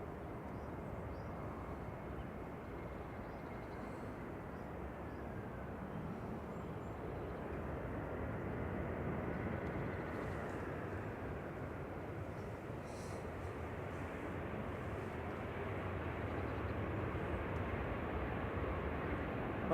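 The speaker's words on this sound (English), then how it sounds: "at least it's got your favourite thrust reversers, Thierry." An airliner lands at gusty Manchester Airport, its thrust reversers giving a steady, distant roaring rush that swells gently and holds for the whole stretch, with no talk.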